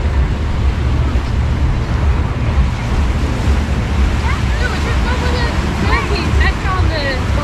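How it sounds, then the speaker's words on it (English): Sea waves washing onto Blackpool Beach, a loud steady roar of surf mixed with heavy wind buffeting close by, and thin gull-like calls faintly above it near the end. "I just absolutely love the sound of the sea."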